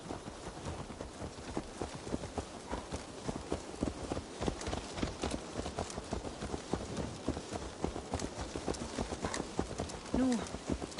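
Horse hooves clip-clop steadily and fairly close in Assassin's Creed Valhalla, a dense repeating rhythm of hoofbeats that runs throughout, with a brief snort or whinny near the end and game voices talking over it.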